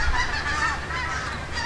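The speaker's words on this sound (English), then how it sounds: "massive flock of geese just coming over us." A massive flock of geese passes overhead in the countryside, honking continuously and loudly in overlapping calls with no talk.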